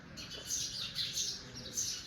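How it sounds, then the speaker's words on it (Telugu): House sparrows chirp near a house, short faint tweets repeating in quick bursts from a little distance. "అక్కడ చూడండి బర్డ్స్. సౌండ్స్ వినిపిస్తున్నాయా మీకు వీడియోలో?"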